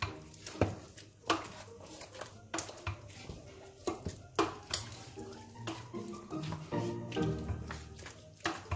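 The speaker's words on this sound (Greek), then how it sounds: "Ανακατεύουμε." A spoon stirs Greek beef and orzo casserole in a metal pot, giving repeated sharp scraping clinks and knocks in an irregular rhythm over a soft wet churning, close and fairly loud, with no talk.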